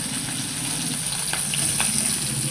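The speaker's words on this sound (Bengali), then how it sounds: "তেলের মধ্যে ভাজা ভাজা হয়ে আসছে একটু উচ্ছেটা" Bitter gourd frying in oil with five-spice seeds and green chilli gives a loud, continuous close-up sizzle with faint crackles and a light stir, steady throughout.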